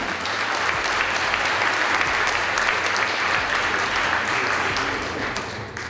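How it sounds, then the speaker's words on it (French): A large audience applauds an award winner at a corporate ceremony, a dense, loud, continuous wash of clapping throughout. "On peut l'applaudir bien fort quand il vient de nous rejoindre sur scène."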